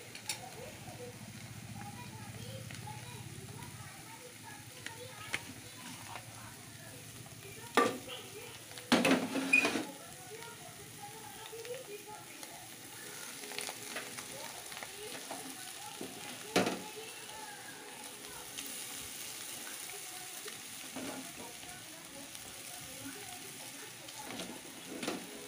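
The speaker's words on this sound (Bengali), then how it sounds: "এই যে নুডলসটা দিয়ে দিলাম, দিয়ে এই যে ভালো করে নেড়ে নেব।" Boiled noodles frying and being stirred in a pan, a steady low sizzle with a few sharp scrapes and clinks of the utensil against the pan, fairly quiet throughout.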